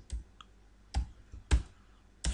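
Several separate keystrokes on a computer keyboard, sharp clicks spaced irregularly at close range with quiet gaps between them.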